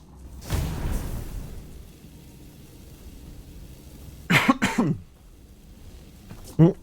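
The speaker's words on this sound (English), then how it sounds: "I was just having a cough break." A person coughs in several separate fits: a rough burst near the start, a harsher double cough midway and one short cough at the end, with quiet pauses between them.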